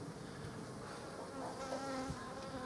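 Honeybees from a package buzz steadily in a dense, close swarm while the queen cage is lifted out, a continuous droning hum with no voices.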